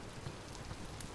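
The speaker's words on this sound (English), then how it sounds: "raining like crazy, which it's been doing for days" Steady heavy rain falls in the survival game Vintage Story, a dense, even hiss of drops on surfaces with no break, faint and continuous throughout.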